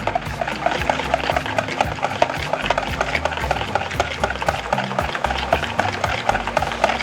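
A whisk beats an egg into banana cake batter in a bowl, giving a fast, steady, close-up scraping and tapping rhythm that runs on without a break.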